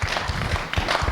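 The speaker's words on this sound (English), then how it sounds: "round of applause for Howard for this incredibly important subject" An audience gives a round of applause for a speaker after a talk: a brief, steady patter of many hands clapping at moderate volume, with no talking.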